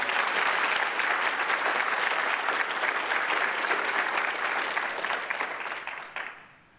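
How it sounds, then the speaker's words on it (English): Sustained applause from a live audience honouring the App Camp founder at a gathering, dense and steady for several seconds before tapering off at the end. "Please give her a big round of applause."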